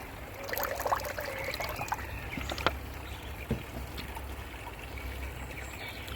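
Potassium permanganate solution pours into fish tank water with a soft trickle and small splashes, faint and close, followed by quiet water ambience with a few light knocks.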